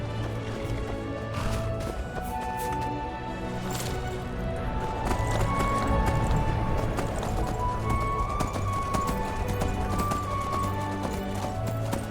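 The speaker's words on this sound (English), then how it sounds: "Let's see if I can steal another horse from this stable." Horse hooves clip-clop steadily while riding in Skyrim (Beyond Skyrim: Bruma mod), a continuous gait over a background of game music and ambience, with an occasional whinny.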